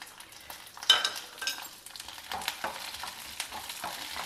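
Green chillies, a mix of spicy and milder ones, lightly frying in oil with a steady soft sizzle, broken by occasional stirring scrapes and clinks, close up with no voices.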